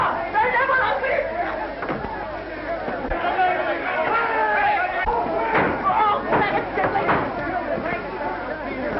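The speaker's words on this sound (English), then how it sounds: "Break down the door! They'll never open it!" In a 1933 film soundtrack, a crowd batters at a door, with loud overlapping shouts and agitated chatter, heavy slams and thuds breaking through the noise.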